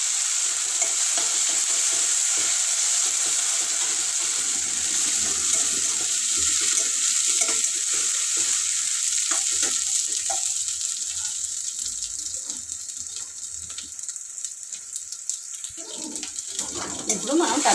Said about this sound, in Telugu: ఉల్లిగడ్డ ఎర్రగా అయింది కాబట్టి అల్లం వెల్లుల్లి పేస్ట్ వేసుకుందాం